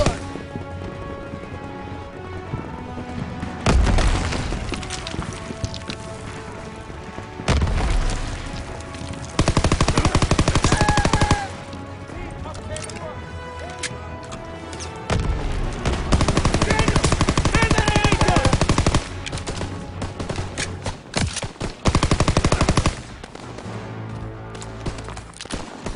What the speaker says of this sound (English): Daniels, get the AA gun!